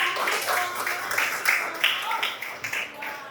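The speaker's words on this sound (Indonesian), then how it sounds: "Beri tepuk tangannya" Classroom applause at a school lesson, a steady patter of many hands clapping in a room, mixed with chatter and voices throughout.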